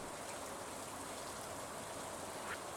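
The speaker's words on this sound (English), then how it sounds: "And it's raining too" Steady rain falling in Stardew Valley, a constant even hiss of drops without breaks, moderately soft and alone.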